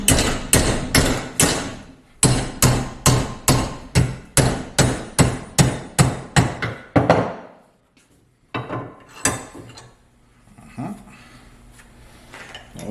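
Rapid, loud, evenly spaced hammer blows on metal held in a vise ring out in two long runs while building a BBQ grill grate, followed by quieter scattered knocks and a dog whimpering.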